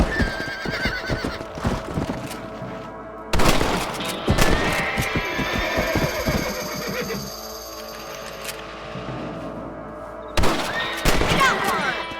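Gunshots in the Red Dead Redemption video game while hunting rabbits, several sharp loud blasts spaced apart amid horse whinnies, hoof clatter and background game sounds.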